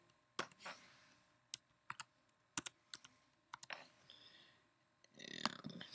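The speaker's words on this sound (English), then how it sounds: "So I'm going to type in the security code." Scattered keystrokes on a computer keyboard as a security code is typed in on a podcast publishing site, sharp separate clicks close up in a quiet room, then a short burst of faster typing near the end.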